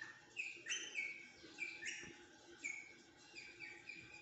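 Red rosella parrots, males and females together, give repeated sharp high chirps and short whistles in a quiet setting, heard faintly at a moderate distance with no talking.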